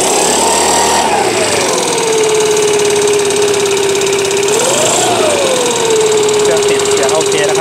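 Chinese GX35-type four-stroke engine on a brush cutter or fertilizer sprayer, choke still on, revving up from idle, dropping back, then revving again; loud and close, with a steady buzzing drone.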